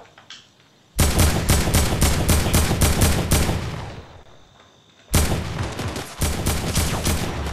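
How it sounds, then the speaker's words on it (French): Gunfire in the video game Fortnite, heard as two long, loud bursts of rapid automatic shots that start abruptly and are split by a short quiet pause. No speech is heard over them. "Donc quelqu'un s'en tire dessus."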